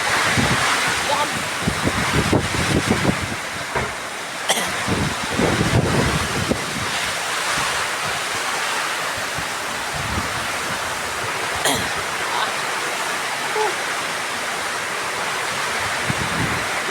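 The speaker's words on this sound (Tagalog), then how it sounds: "Lakas ng hangin, oh." Strong typhoon wind roars and gusts continuously, buffeting the microphone, with a person speaking briefly under the noise.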